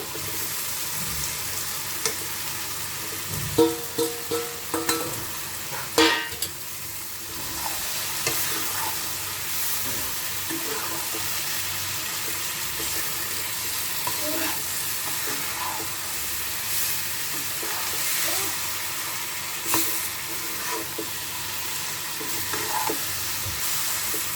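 Fried cauliflower and potatoes being stirred into sizzling meat curry in a pan, a constant oily hiss with intermittent scraping and clinking of the spoon against the pot, close and without talking.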